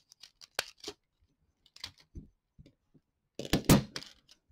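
A guillotine cutter slicing 32 mm Panasonic double-edge splice tape gives a few sharp, close snipping clicks, the loudest cut near the end, with short quiet gaps between strokes and no talk.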